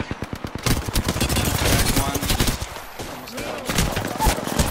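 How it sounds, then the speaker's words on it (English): Automatic gunfire in the video game Apex Legends, rapid bursts of shots crackling close and loud, then scattered quieter shots and game effects, with a player talking over parts of it. "They're shooting at me."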